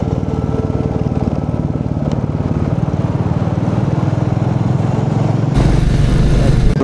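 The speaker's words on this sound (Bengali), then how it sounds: "আঁকা বাঁকা রাস্তায় বাইক চালাচ্ছি, তাও আবার একদম পাহাড়ি রাস্তা" A Royal Enfield Classic 350 motorcycle being ridden along a winding hill road in Rangamati, its steady single-cylinder engine thrum loud and continuous, with a louder burst of engine and wind noise near the end.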